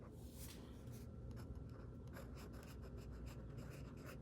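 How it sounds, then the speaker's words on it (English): A pen moves across the paper of an art journal, quiet close scratching strokes in short irregular bursts, faint and steady with no talk. "So I'm gonna write that in another one of these."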